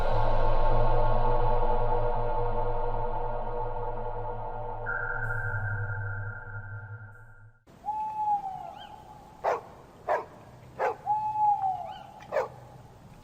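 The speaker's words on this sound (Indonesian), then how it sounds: "Burung hantu berbunyi saling bersahutan." Owls hoot back and forth in a night setting, several distinct calls spaced in an irregular rhythm after a stretch of low droning ambience, fairly clear and close with no talking.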